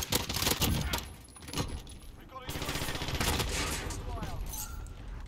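Vector submachine gun fire in Call of Duty rattles in rapid close bursts with mechanical clatter, pausing and resuming, while a player talks over it.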